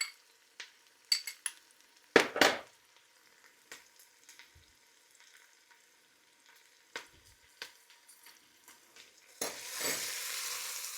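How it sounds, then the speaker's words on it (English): Tomato paste is stirred into frying onions and garlic, with soft scrapes and clinks of a utensil against the pot over a quiet sizzle, followed by a louder burst of sizzling near the end. "And mix that in with the onions and garlic."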